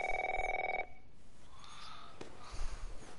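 An electronic telephone ring in The Last of Us video game, a steady warbling tone lasting under a second and stopping abruptly, followed by quiet room ambience with a faint click.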